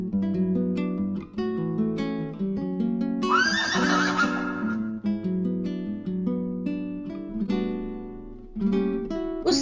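A horse whinnies loudly and close by, one long rising neigh over a background of sustained musical tones, with no voices.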